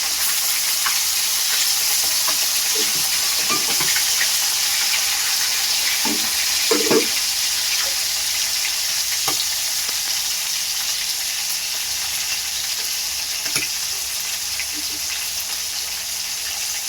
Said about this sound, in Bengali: এগুলো আমি ভেজে নেব। এইভাবে আমি লাল করে ভাজবো বন্ধুরা।